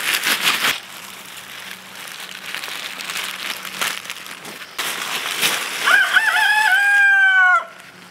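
Rustling and crinkling noises up close in a vegetable garden, then a rooster crows loudly nearby, one long drawn-out call.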